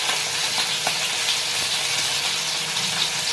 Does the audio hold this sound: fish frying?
yes